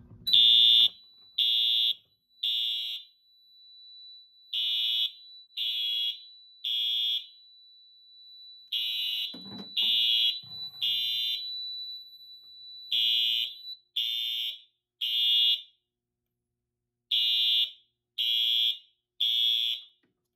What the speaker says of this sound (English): The notification appliance is a Wheelock EHDL1 with a WM24 strobe on it. The horn is set to temporal coding.